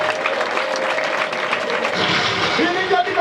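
An audience claps warmly after a recitation of Rwandan cattle praise names, a dense burst of many hands close by that swells slightly toward the end, with a voice speaking over it.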